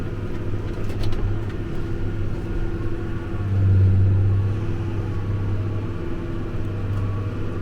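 John Deere 4430 tractor fitted with dual wheels backing up while mowing, a steady low diesel rumble that swells briefly midway, close and continuous with no talk.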